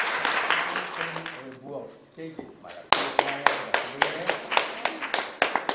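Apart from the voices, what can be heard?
audience applause at children's song contest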